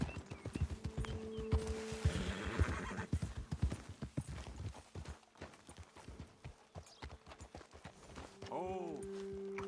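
Horses in the video game Red Dead Redemption 2 neigh and whinny with a clear rising call near the end, over steady clip-clop hooves on a trail and a voice speaking.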